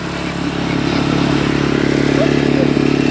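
A small Turkish motor tiller (çapa motoru) engine runs steadily nearby, a loud continuous buzzing drone with a rapid putter that builds slightly early on, then holds at a constant throttle.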